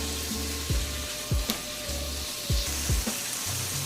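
A shakshuka base of blended spices and aromatics sizzles steadily in a pan, a continuous frying hiss broken by a few soft knocks and scrapes of a utensil against the pan.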